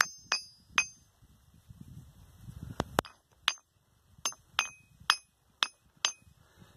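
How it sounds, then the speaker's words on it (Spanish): A volcanic bell stone is struck repeatedly, each hit giving a sharp, bright metallic ring that decays quickly, in irregular spacing with soft handling noise between strikes. "una piedra que se llama piedra campana, que es una piedra que suena cuando uno la golpea."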